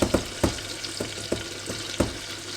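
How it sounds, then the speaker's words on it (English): Minced garlic frying in a pan, a continuous soft sizzle broken by several sharp clacks of a utensil stirring against the pan at irregular intervals, close and clear with no talking. "So I'm just going to fry the garlic off a little bit"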